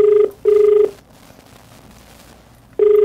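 A telephone rings on an outgoing call, heard as loud steady electronic tone bursts: two short rings, a pause of near silence, then the tone starting again.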